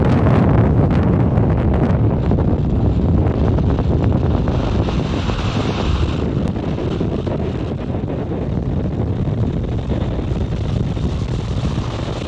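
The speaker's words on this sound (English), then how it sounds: "Falcon 9 has successfully cleared the tower and lifted off from Space Launch Complex 4 East at Vandenberg Space Force Base in California." A SpaceX Falcon 9 lifts off from Space Launch Complex 4 East at Vandenberg Space Force Base, California, on the Transporter 13 mission: a continuous, broad, distant roar with wind buffeting, slowly fading over the clip.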